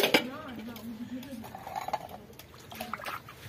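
Pots and pans clink and clatter while being handled for washing outdoors in a village kitchen, with trickling water from a tap filling a tub; someone talks throughout over the light, intermittent clanks.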